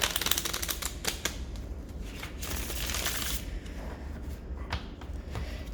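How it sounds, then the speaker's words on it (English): A deck of playing cards being shuffled, a dense rapid riffling rattle that runs steadily from start to finish, close and fairly loud with no voices. "I think that we need more of a shuffling before I start clearing the deck."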